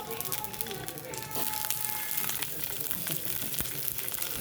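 Steady sizzle of stuffed brinjals frying in hot oil in a wok, a close crackling hiss with a voice talking over it.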